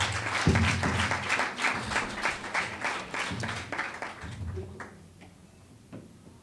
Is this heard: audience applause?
yes